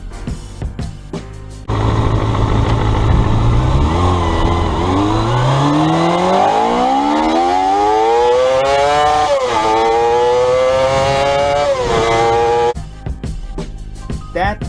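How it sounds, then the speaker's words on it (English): A 1991 Kawasaki ZXR250 four-cylinder motorcycle screams loudly through rising revs, climbing steadily in pitch, dipping briefly at a gear change, then climbing again before cutting off abruptly. "That is the sound of the old ZXR250."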